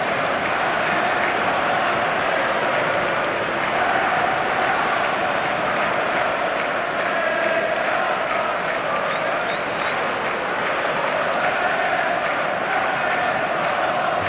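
A capacity stadium crowd at the San Siro in eFootball 2025, Liverpool vs Barcelona, roars as one steady, loud wash of noise with faint applause-like texture, unbroken for the whole stretch.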